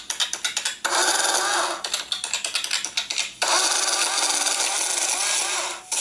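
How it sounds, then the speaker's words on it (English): An adding machine's handle being pulled in a classroom, giving loud, repeated ratcheting mechanical cranks in two long runs with a brief pause between them. "So you can hear that handle being pulled."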